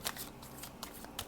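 Tarot cards are shuffled in a brief, faint run of soft papery riffles and flicks, close by, with no voices.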